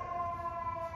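A fire truck siren on a New York City street, sounding as a loud, steady wailing tone close by for a brief moment.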